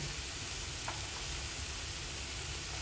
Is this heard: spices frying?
yes